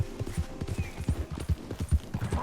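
Horse hooves clip-clop in a steady walking rhythm in Red Dead Redemption 2, the thuds close and clear, with faint ambient game sound behind them.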